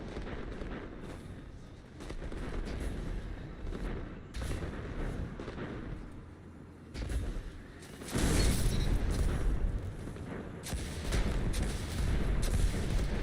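Gunfire in Destiny 2 Crucible multiplayer: dense, loud bursts of shots and booming impacts come in waves over continuous game noise, with no talk.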